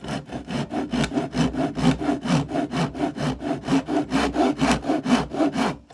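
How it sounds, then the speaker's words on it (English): A tenon saw cuts down through wood toward a hidden mortise and tenon joint for a handmade wardrobe, with about twenty steady, rhythmic back-and-forth rasping strokes, close and loud, and no talking. "Now I'm just cutting down towards the tenon from the side."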